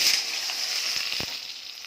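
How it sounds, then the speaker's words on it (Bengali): Taro sizzling in hot oil with onion, a steady close hiss of frying with faint crackles and a few soft stirring knocks. "কচুটা ভেজে নেব একটু হালকা"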